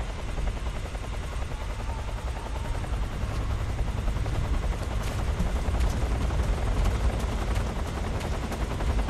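Helicopter rotor in Metal Gear Solid 3: Snake Eater, a steady loud chopping drone holding for the full stretch with a dense rumbling low end, no voices over it.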